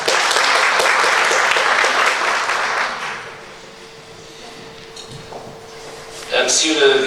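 Audience applause at an academic conference on finance and technology in Fez, a dense round of clapping that fades out after about three seconds, then a quiet room and a voice starting to speak.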